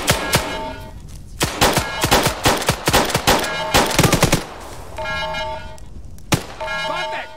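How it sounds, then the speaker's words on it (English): Machine gun fire in the ArmA 3 video game: repeated sharp bursts of automatic shots, loud and close, with tonal game sounds and alarm-like beeps between volleys and some talk. "Machine gunner!"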